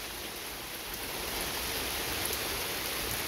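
Steady rain falls outdoors as a dense, even hiss of drops on surfaces, constant and moderately loud for the whole stretch with no voices.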